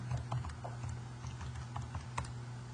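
Fingers tap out a short run of quick, light key presses on a calculator during a math lesson, close and fairly quiet, with no talking.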